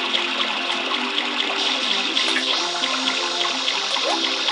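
Continuous hissing water spray from a water-pack nozzle in Super Mario Sunshine, a steady bright rushing stream with no talk over it.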